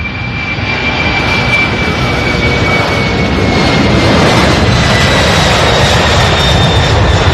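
A Boeing 747 jet roars loud and near at SDF airport in Louisville, Kentucky, a broad sustained engine rumble with a faint high whine running steadily throughout.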